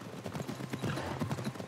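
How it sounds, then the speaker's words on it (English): A horse gallops in Assassin's Creed Mirage, its hooves drumming in a quick, even clip-clop rhythm for a brief moment, fairly close and alone. "You see the horse running at you"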